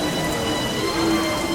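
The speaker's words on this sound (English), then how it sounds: "Suddenly, there's a wall of rain in front of the dragons." Heavy rain pours down in a dense, continuous hiss, steady and close, with no pauses or voices.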